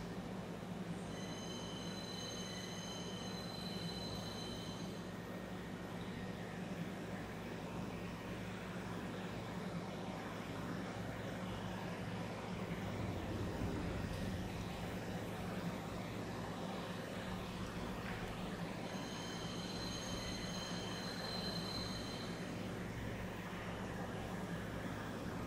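A train ride in the Star Citizen game rumbles steadily throughout, with a low rolling drone and two stretches of high squealing tones near the beginning and again toward the end, no voices.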